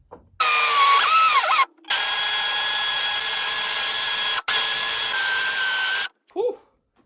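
A drill press fitted with a Forstner bit bores into wood for floating shelves with concealed hardware. Its motor gives a loud, tonal whine in three sustained runs separated by short pauses, and a brief voice follows at the end.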